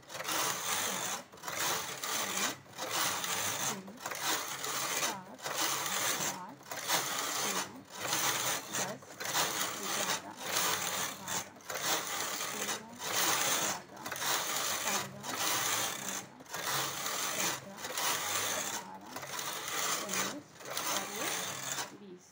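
A hand-operated knitting machine works rows of a designer sweater border, the carriage sliding back and forth in a steady rhythmic series of whirring passes with brief pauses between them, recorded close and alone.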